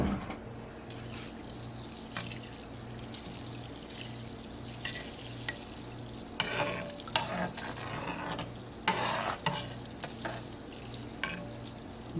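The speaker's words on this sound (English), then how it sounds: "give that a little stir" Elderberries in water are stirred in a pot, soft scraping swirls repeating over a faint steady hum, with occasional clinks of a utensil against the side.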